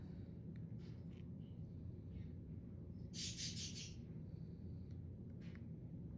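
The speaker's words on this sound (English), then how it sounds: "Hope you don't mind hearing my birds in the background." Bird chirps flutter in the background, a brief burst of high twittering standing out over a steady low room rumble.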